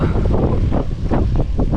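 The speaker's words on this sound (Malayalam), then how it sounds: "കൂടെ അടിപൊളി കാറ്റുമല്ലേ ബ്രോ?" Steady wind buffeting the microphone while cycling near Chimmini Wildlife Sanctuary, a constant rumbling roar that fills the whole clip with no voices.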